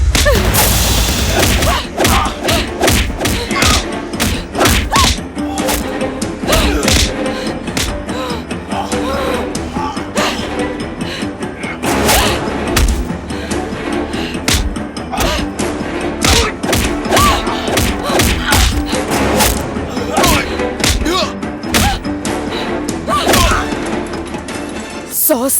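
Punches, thuds and crashes from a dubbed Nepali movie fight scene land in dense, loud rapid succession over a full soundtrack of music and effects.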